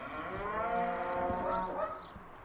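Cows mooing outdoors in a pasture on a Dutch beef farm, one long sustained low moo lasting about two seconds, loud and close, with no talk over it.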